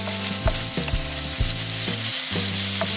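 Chopped celery and mushrooms frying in oil while being stirred, a close steady sizzle punctuated by sharp clacks of the spoon against the pan.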